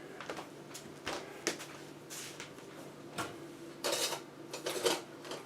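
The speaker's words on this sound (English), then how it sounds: "I'm just going to grab a different spatula. Where are they?" Kitchen utensils clatter and clink while someone rummages for a spatula in a home kitchen, with scattered metallic knocks and shuffles at close range and no talking.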